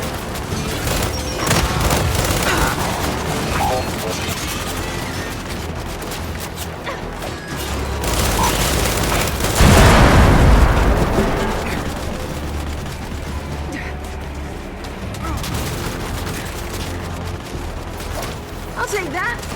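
In Gears 5 combat, frag grenade blasts and gunfire mix into loud, near booms and crackling shots, with one heavy explosion near the middle, while voices call out over the fighting.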